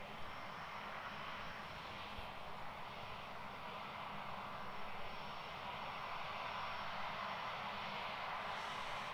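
Jet engines of an eight-year-old Singapore Airlines A350-900 at Christchurch airport, a steady broad roar holding at an even level throughout, with no voices.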